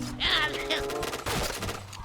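Sharp bursts of gunfire crack through rapid bursts in a game, layered with electronic effects and a voice speaking briefly.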